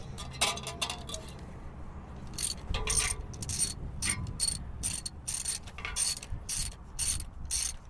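Ratchet and socket working a part loose on an AMC Pacer engine, giving rapid bursts of close, crisp clicking in uneven runs, with short pauses between pulls.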